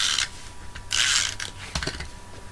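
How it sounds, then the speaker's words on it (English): A snail adhesive tape roller lays glue onto a card mat for a festive framed card, giving short, close, papery ratcheting rasps in two main bursts followed by a few lighter clicks and rattles. "And I'm just going to put that down using my snail adhesive."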